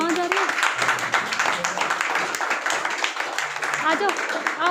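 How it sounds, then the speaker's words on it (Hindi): Wedding guests at a Christian ceremony clapping, a steady, dense patter of applause heard under continuing talk and voices throughout. "हम सब जोरदार ताली बजाएं इस परिवार के लिए"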